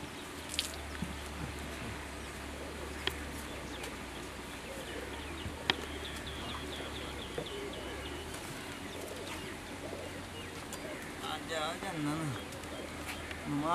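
Domestic pigeons kept for pigeon flying coo softly and low in a Punjabi household, faint beneath people talking over them throughout.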